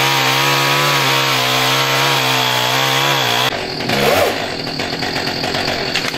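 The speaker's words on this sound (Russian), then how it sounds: "студенты лесхозтехникума бензопилой распиливали огромные деревья," A petrol chainsaw cuts through huge trees jammed under a bridge on the Buzuluk River, its engine loud and close, droning steadily before dropping pitch and roughening as the chain bites into the wood.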